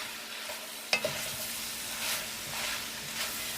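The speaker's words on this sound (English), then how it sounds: "I'm going to go ahead and add my fresh mushrooms in and let all this cook down." Fresh mushrooms cook down in a hot pan for okra succotash with shrimp and sausage, giving a steady close sizzle and hiss with one sharp clink of a utensil near the start.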